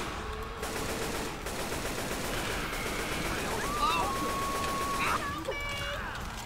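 Rapid gunfire aimed at the player in a co-op shooter video game crackles in dense bursts, with whistling and tonal game effects over a busy mix while players talk.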